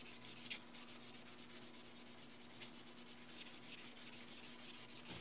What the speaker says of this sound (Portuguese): Lixa ele bem lixadinho.